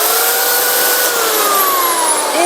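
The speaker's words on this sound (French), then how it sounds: "Autre appareil très énergivore, donc une tronçonneuse à bois." A wood-cutting chainsaw powered by a DJI Power 1000 V2 portable battery station runs with a loud, steady, high-pitched whine. It holds a constant pitch throughout with no voices.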